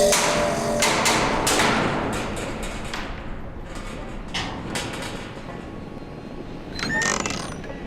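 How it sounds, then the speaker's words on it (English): Knocking on a door in Back to the Future: The Game, heard as a run of sharp, close thuds early on over a busy game soundscape of creaks and mechanical clatter, with a brighter metallic scrape near the end. "Go ahead, knock on the door again."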